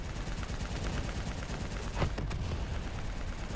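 Distant, continuous gunfire from a Call of Duty Black Ops 3 campaign battle, a steady dense rattle of automatic weapons with one slightly louder burst, no talking.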